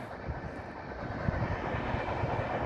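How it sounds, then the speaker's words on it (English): CN ES44DC and CN/IC C44-9W locomotives lead a southbound manifest freight train, a steady broadband rumble and rush of the passing consist, moderately loud and continuous with no voices. "That's the southbound manifest train,"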